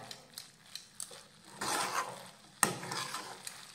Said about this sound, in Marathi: तर हे बेसन पीठ एकदम व्यवस्थित असं हे मिक्स करून घेऊयात।